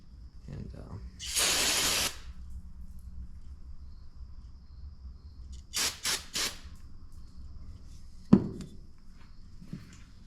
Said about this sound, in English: I'm gonna go ahead and spray some parts clean in there